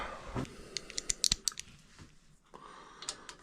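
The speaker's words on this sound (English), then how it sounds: "Now I'll tighten these bolts down, and that'll be that." Hand tools tightening 8mm bolts during bottom-end assembly of a Yamaha XS650 engine, a series of quiet ratcheting clicks and metallic ticks in short irregular bursts, close up with no talk.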